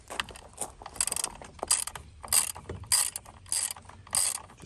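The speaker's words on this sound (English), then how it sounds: "Tighten everything down." Ratchet wrench with a 5mm socket tightening the bolts of a friction drive engine mount on a motorized bicycle, giving repeated bursts of close, crisp clicking strokes, about six rounds of ratcheting with short pauses between them.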